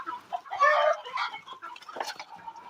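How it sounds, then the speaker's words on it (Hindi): A desi hen clucks loudly and insistently nearby after laying an egg, a drawn-out squawking cackle followed by shorter, choppy clucks. "और मुर्गी अंडा दे के आई है, ज़्यादा आवाज़ लगा रही है शायद।"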